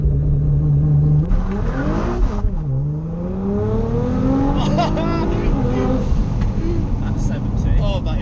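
A 700-horsepower Nissan GT-R R35 Black Edition launches hard from a standstill, its engine note climbing loud and steady through several rising gear pulls with a brief dip at a shift, heard from inside the cabin with voices over it.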